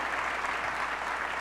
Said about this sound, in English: How about applause for those people?